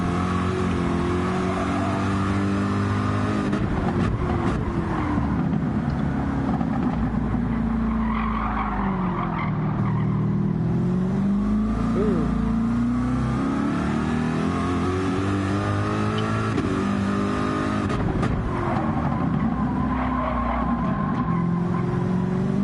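Video game race car spinning out, a continuous loud engine drone with pitch sweeps rising and falling as it revs, skidding tire noise mixed in, with no talking.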